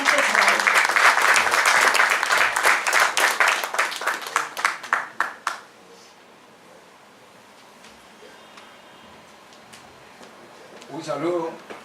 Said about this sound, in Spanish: recibimos con un fuerte aplauso al capitán de fragata